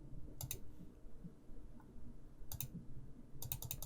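A computer mouse clicks faintly in a quiet room, giving a few quick double clicks spaced about a second apart over a low hum.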